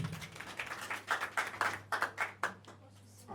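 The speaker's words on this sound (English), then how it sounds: "Please give her a round of applause." Audience applause at a press gathering: a modest burst of clapping from a small group, with distinct irregular hand claps rising and falling over a steady low hum, fairly close and moderately loud.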